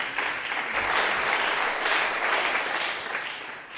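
A church congregation claps together in a sustained, even round of applause, a dense crowd sound at moderate distance that swells and eases slightly with no one speaking over it.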